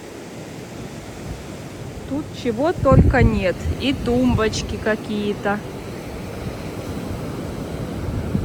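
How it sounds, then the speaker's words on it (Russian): Strong storm waves roll in on the Golden Coast beach in Odessa, producing a constant broad roar. A person speaks briefly over the surf partway through. "Очень сильные волны сегодня. Прям шторм."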